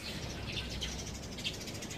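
Birds chirp faintly near a riverside house lined with trees, a few soft, brief calls scattered over a steady, breezy outdoor background.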